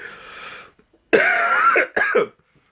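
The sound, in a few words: cough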